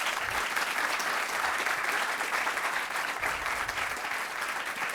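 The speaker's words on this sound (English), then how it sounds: "Please, a big round of applause for Inger." An audience at a university talk on the planetary crisis, Universidad ORT Uruguay, gives a sustained round of applause: dense, even clapping that fills the whole stretch without pause.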